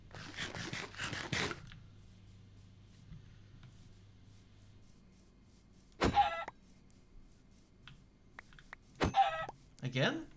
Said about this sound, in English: Let's eat that chicken.